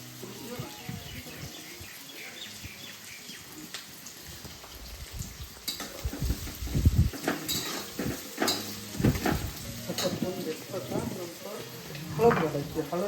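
Onion sautés in a pan for poha in a home kitchen, a close sizzle broken by clattering stirs and utensil knocks that grow busier over time, with faint background sounds.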